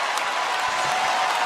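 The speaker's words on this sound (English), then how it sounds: "Oh, he got a standing ovation." Applause from a standing ovation for Robert De Niro, a dense, steady wash of clapping from a large crowd, fairly loud and continuous through the brief moment.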